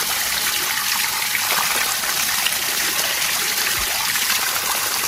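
Water running out of a sand filter pump after it has been switched off during cleaning, a steady close rushing and trickling flow with no talking.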